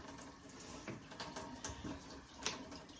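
Low-pressure water trickles faintly from a kitchen tap in a single-wide mobile home, a soft continuous splash into the sink with no voices.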